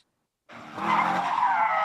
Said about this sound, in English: Revving engines and screeching tires.